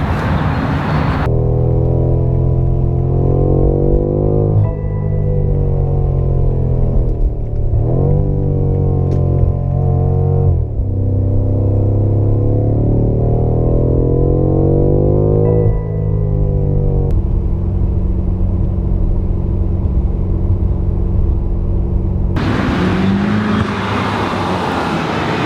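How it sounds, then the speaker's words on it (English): A BMW F90 M5 sedan's engine revs loudly and up close, pitch climbing and falling through repeated gear shifts, with sharp exhaust crackles popping on lift-off and between gears; no voices. "you can hear lots of crackles, and on the lift off, and between gears, on the shifts, and mostly the sound of the engine"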